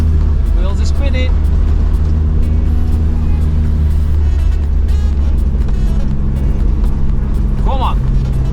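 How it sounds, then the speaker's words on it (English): An off-road vehicle's engine drones loudly and steadily in snow on a Welsh mountain track at Strata Florida as its wheels spin, with a near, constant rumble and voices talking over it. "wheels are spinning"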